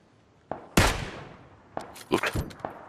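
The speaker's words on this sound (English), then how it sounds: "He's shooting at you now." Gunfire in the battle royale game PUBG: a few sharp, separated shots, one loud crack followed by a decaying tail, then a cluster of quicker reports, moderately near against a quiet background.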